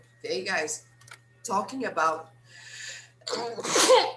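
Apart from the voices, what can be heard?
sneeze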